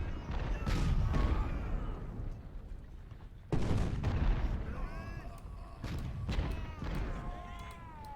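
Civil War artillery batteries in Ultimate General: Civil War fire in loud booming volleys, several heavy blasts spaced a few seconds apart with rumbling decay between them and a faint voice mixed in.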